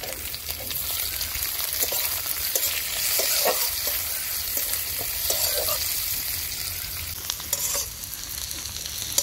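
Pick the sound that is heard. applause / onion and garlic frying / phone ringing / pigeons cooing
onion and garlic frying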